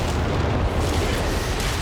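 Artillery shell explosions in Company of Heroes 3, a continuous loud rumbling roar of blasts with heavy low booms packed tightly together and no breaks.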